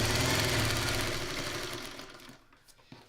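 Sewing machine running fast and steady while stay stitching a quilt block, a dense mechanical whir that slows and stops after about two seconds, leaving a few faint clicks.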